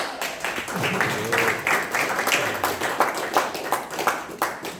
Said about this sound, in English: Please give a warm, well applause to Toastmaster Nate Bowe.